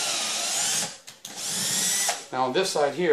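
A drill drives a drywall screw into a wall in two close, high whirring bursts, then someone talks.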